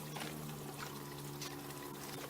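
Water splashes and trickles softly as a few water lilies are set into a fish pond, faint and continuous without speech.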